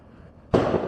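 Fireworks burst in a parking lot after a French football cup victory: a sudden loud crackling blast erupts after near-quiet and keeps sizzling densely to the end.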